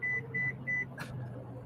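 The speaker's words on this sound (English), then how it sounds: "Every time we hear that beep, beep, beep, beep, that means Tim just crossed the line in his car" Repeated lane departure warning beeps sound from inside a car on the road, three evenly spaced electronic tones over a steady low road hum, with a brief burst of noise after them.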